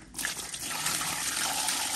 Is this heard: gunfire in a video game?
no